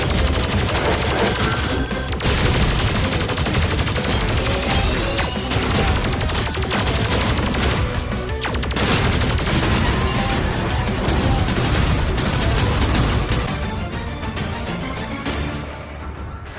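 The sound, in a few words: grenade blasts and gunfire in video game Terminator 2D: No Fate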